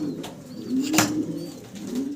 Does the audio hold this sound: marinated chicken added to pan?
no